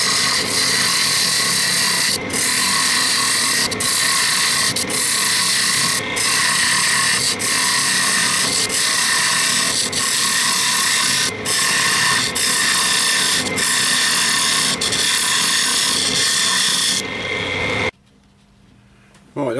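A laurel wood box being hollowed on a lathe with a square carbide cutter, a loud continuous rasping, whirring cut with brief regular dips as the cutter is lifted, ending with a short pause near the close.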